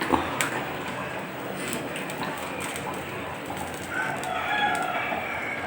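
Chickens cluck and a rooster crows at a coop amid a busy, continuous background of farmyard noise, moderately close.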